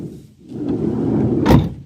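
The sliding side loading door of a Vauxhall Movano van rolls along its runner with a smooth rumble, ending in a short, sharp clunk as it closes.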